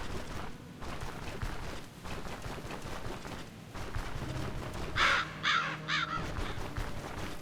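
Crows in the Plague Village area of the video game StoneShard give three distinct caws near the end, rising above a continuous noisy in-game ambience.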